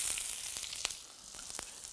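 Chopped onion and carrot hit hot oil in a pan, a continuous bright sizzle with small pops and crackles, close and steady with no talking.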